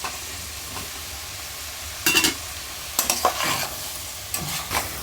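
Cauliflower, potato and tomato with fried onion, chilli, coriander, cumin and garlic paste are stirred in a pan. Scraping bursts of stirring rise over a steady close sizzle, with no talk.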